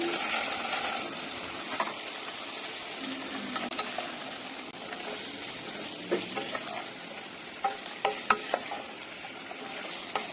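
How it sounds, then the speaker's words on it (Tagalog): Chicken and liver toppings for lomi noodle soup are stirred in a hot pan, giving a steady close sizzle broken by scattered clicks and scrapes of the utensil, with no talking. "Haluin lang natin siya guys."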